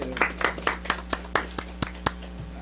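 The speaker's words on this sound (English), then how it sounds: "Let's give Brother Minister another round of applause" Sparse, slow clapping from a small audience at a Nation of Islam temple meeting in Detroit, roughly ten distinct claps in an uneven rhythm over a steady low hum, fairly quiet and close.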